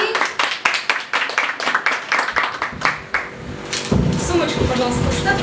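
Audience at an exhibition clapping in a steady run of sharp, close hand claps that swells into fuller applause near the end, with voices mixed in.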